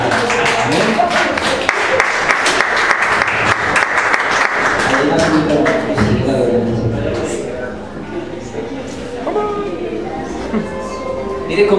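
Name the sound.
congregation applause in church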